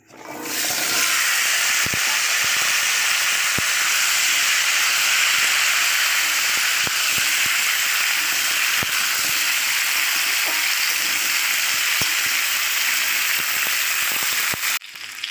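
Mixed vegetables frying in a pan after panch phoron spices: a loud, dense hissing sizzle starts abruptly and holds steady for the whole stretch, with occasional faint ladle taps, then stops near the end.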